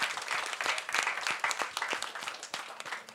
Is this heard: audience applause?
yes